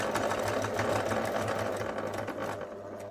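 A sewing machine stitches forward along the edge of the fabric, giving a steady, fast mechanical whirr that runs continuously and then stops at the end, close and alone.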